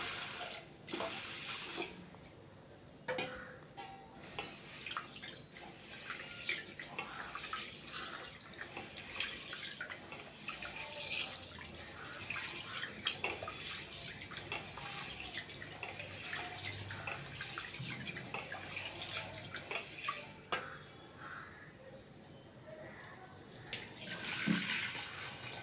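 Moong dal and rice being rinsed in water for pesarattu batter, with sloshing and dripping sounds of grains being washed by hand, moderately loud and steady, no talking.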